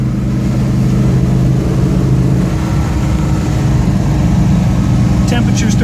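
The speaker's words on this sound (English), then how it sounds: "Got a nice aggressive acceleration," A 1969 Pontiac GTO engine pulls hard while driving, a loud, sustained throaty roar building under a voice talking over it.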